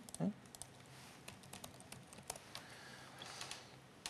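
A computer keyboard is typed on in a studio setting, with faint, scattered key clicks and taps at an irregular pace against a low background.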